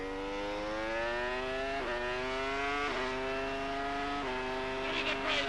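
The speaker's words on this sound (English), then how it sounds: "we're on the racetrack in a Ferrari" A 2000 Ferrari Formula 1 car accelerates hard on a racetrack, its high-pitched engine note climbing steadily through several quick upshifts, loud and close throughout with no talking.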